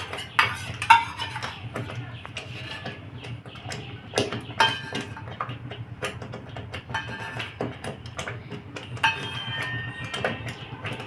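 A spoon clinks and scrapes against a pan while cream is stirred into lasooni palak, a garlicky spinach curry, with irregular close taps and clatters over a low steady hum.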